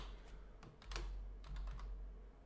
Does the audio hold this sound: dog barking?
no